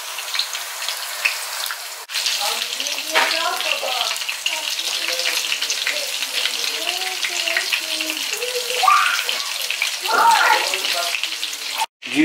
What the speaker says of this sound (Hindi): इन इनको डाल के 5-6 मिनट लगेंगे इनको फ्राई करने में